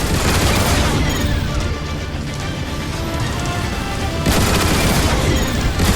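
Gun emplacement turrets in the video game Transformers War for Cybertron fire in rapid, relentless bursts of heavy booms and crackling shots, loud and close over a constant battle din.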